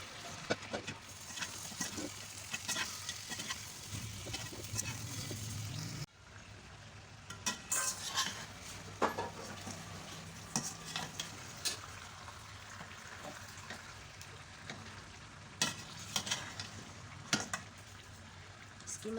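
Mutton karahi frying in a pan, a low steady sizzle with frequent sharp scrapes and clanks of stirring, quiet and close, an abrupt change in tone partway through.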